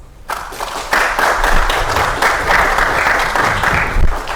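Audience applause welcoming panelists at a clean energy summit, a dense burst of many hands clapping that starts abruptly and holds steady and loud to the end, with faint voices beneath.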